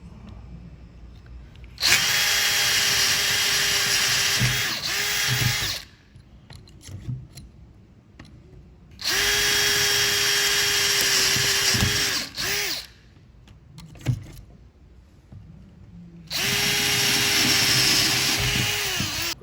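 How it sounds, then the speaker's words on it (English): A power drill whines in three long bursts of several seconds each, drilling out rivets on a Quadrajet carburetor, separated by pauses filled with small clicks and handling noises. "So what we're going to do is we're going to drill out these rivets."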